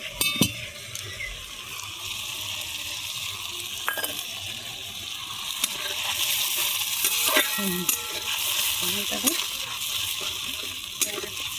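Chicken is sautéed in a pan with fried garlic, onion and tomato and a splash of water. The close, steady frying hiss is broken by scraping stirs and occasional light clinks of metal on the pan.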